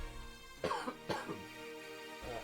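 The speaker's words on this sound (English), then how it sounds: "I'm just gonna cough for a sec" A few close, rough coughs come in quick succession, then a short throat-clearing sound, with quiet background hum between them.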